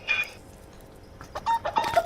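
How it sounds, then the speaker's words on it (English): Chicken clucking in the survival video game Subsistence, a few short clucks and bird calls at close range, brief bursts near the start and again toward the end with quiet between. "And I think I have a chicken."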